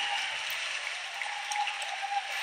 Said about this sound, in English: as you can hear from the crowd cheers here